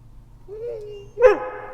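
A dog named Charlie, a good girl keeping company in a motorcycle shop, gives a single short bark on cue after a low whining rise, close by over faint background hum.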